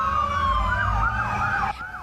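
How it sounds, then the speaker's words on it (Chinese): Police car and ambulance sirens wail loudly while speeding along a highway near Lewiston, Maine, with overlapping rising and falling tones and a low road rumble beneath; the sound drops off abruptly near the end. "警察车甲救护车伫高速公路驶真紧，看起来真紧急。"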